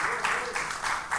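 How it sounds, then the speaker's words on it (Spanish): Church congregation clapping in rhythm, a faint, steady pattern of claps with a voice heard over it. "¿Cuántos le dan palmas al Señor?"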